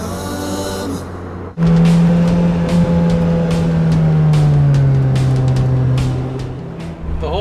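A lightweight Lotus sports car drives along, its engine droning close and loud with a rising and falling pitch as it accelerates, heard from inside the cabin with no talking.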